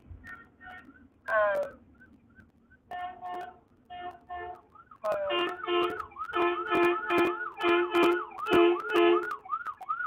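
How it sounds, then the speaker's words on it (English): An ambulance siren passes nearby, its wailing and yelping tones growing louder and denser as it approaches, with sharp horn-like bursts mixed in. "an ambulance."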